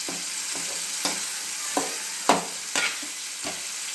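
Okra curry with curry leaves fries in a pan under a steady loud sizzle while a spoon stirs through it, scraping the pan in regular strokes about every half second.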